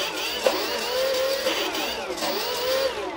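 The twin electric motors of a scratch-built FT Guinea Pig RC plane whine steadily at close range, their pitch rising and falling as differential thrust is switched in, with no talk.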